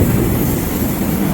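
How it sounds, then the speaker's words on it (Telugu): An orange passenger train at a station between Kakinada and Vijayawada, a loud, close, continuous rolling rumble of the carriages with no talk over it. "యస్, అదే మన ట్రైన్."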